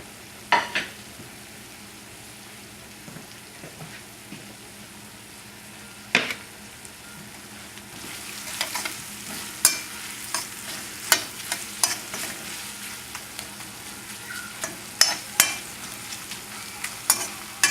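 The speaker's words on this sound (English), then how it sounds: "So we'll just take the pasta and drop it right into the boiling water." Fusilli pasta goes into a pot of boiling water and gets stirred, giving scattered sharp clinks and scrapes of a utensil against the pot over a soft bubbling background, with no talking.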